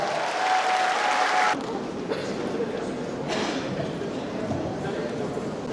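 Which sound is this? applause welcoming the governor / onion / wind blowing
applause welcoming the governor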